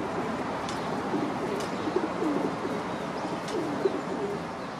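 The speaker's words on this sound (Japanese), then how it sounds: "白いハトさんがねいっぱいいるよ" White domestic pigeons coo repeatedly in low, throaty murmurs, several birds overlapping at moderate distance against a steady background hiss, with no talking.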